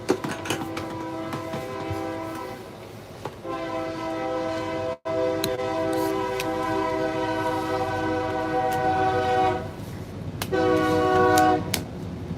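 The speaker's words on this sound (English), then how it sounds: "hold on, y'all, wait for the train to go by" A train passes by, its horn sounding in long sustained blasts nearly throughout, loud and close, with a brief break partway through and rumbling wheels underneath.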